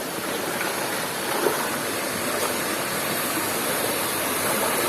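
Clear, shallow Wai Campang river water rushing steadily over rocks, a close, dense broadband wash that holds an even level without pause for the whole stretch, with no voices over it.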